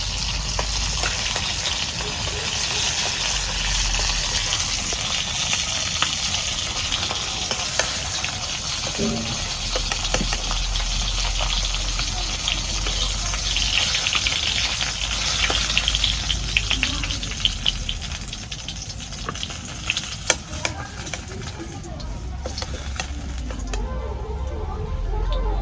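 Pieces of pomfret fish fry in oil with a loud, continuous crackling sizzle that holds steady throughout, with occasional sharper pops and spatters up close.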